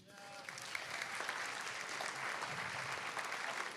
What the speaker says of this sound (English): Please give a round of applause for yourselves